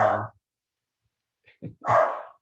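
A small pet dog barks indoors, two loud, close, sharp barks with a brief quiet gap and a faint yip between them, with no talking.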